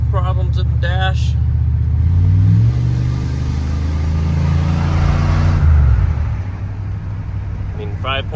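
A Chevy 5.7 V8 car on a test drive, with its engine droning and rising in pitch as it accelerates, then settling. Someone talks briefly at the start and end.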